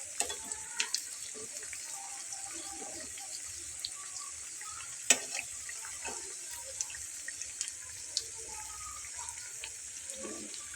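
Bread pockets frying in a pan over a medium flame, a soft continuous sizzle with scattered small pops and crackles, one sharper tick midway, close but fairly quiet and without speech.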